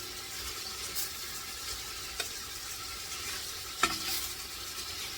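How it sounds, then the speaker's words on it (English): Beef browning in a pot for homemade beef stew, a steady soft sizzle and crackle throughout with a couple of faint clinks from stirring. "I'm going to brown all of this beef into portions"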